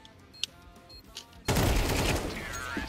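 Gunfire in Counter-Strike 2: a few sparse clicks, then a sudden loud burst of rapid shots that rings on for over a second, close and dominant.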